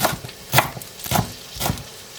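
A knife finely chops parsley and coriander stems on a board, producing four or five distinct knocking strikes with soft rustling in between, at an unhurried, uneven pace, close up and with no talking.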